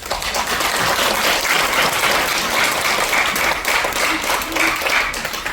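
An audience applauds a professor after a lecture on fermented nitric oxide metabolites, a loud, continuous wash of clapping that runs evenly throughout without a break.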